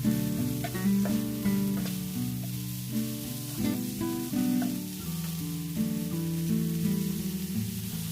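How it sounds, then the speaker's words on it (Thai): Sliced pork and carrot stir-fry in a hot pan, a steady close sizzle with stirring scrapes, mixed with sustained tonal sound in the background. "ใส่ผัดลงไปกับหมูเลย นื้อหมูกับแครอทให้สุกค่ะ"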